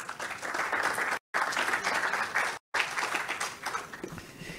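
Sustained audience applause at a mining forum, a dense, steady wash of many hands clapping that carries on across the clip, broken by two brief dropouts.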